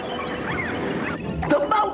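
Cartoon birds cry out in a series of rising and falling calls, fairly close and loud, with a few sharper squawks near the end and no talking over them.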